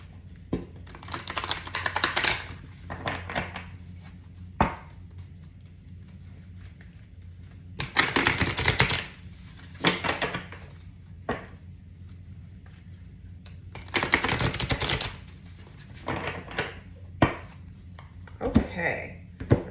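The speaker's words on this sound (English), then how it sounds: "we go into the shuffle." A large Druid tarot card deck is shuffled by hand in repeated bursts of riffling and soft papery slaps separated by pauses, close and fairly quiet, with a person speaking in between.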